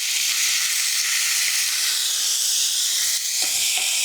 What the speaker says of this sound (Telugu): పనసపొట్టు కూడా ఒకసారి వేపుకుందామండి.